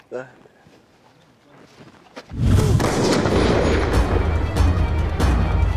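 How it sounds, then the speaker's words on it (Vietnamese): Pistol shots fired by shooters at a 9 kg steel ball-bearing target on a shooting range, a loud sustained burst of blasts and ringing impacts following quieter talk at the start. "các xạ thủ sẽ bắn vào mục tiêu là trục bi làm từ thép 9 kc"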